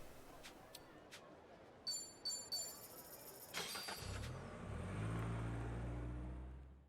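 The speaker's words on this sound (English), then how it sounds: "Yes, Lance, I did the truck dodging side game." Trucks rushing past in a truck-dodging video game, sharp game beeps and clicks first, then a loud rising engine rumble and whoosh of a vehicle passing close that fades at the end.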